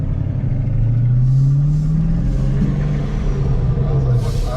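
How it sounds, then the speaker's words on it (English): A low, steady truck exhaust rumble drones throughout, close and continuous, with a slight rise in pitch partway through. "I was like, what's that rumbling noise? I realized it's the truck there."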